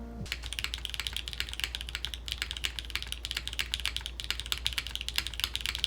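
Typing on a KV1-65 mechanical keyboard with its gasket removed: brisk, steady key clacks in a continuous flurry, close and clear, over a low constant hum.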